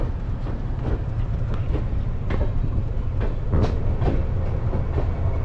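The Jnaneswari Express pulls out of Shalimar station, a loud continuous rumble of rolling railcars with rhythmic clickety-clack wheel beats over rail joints, close and steady.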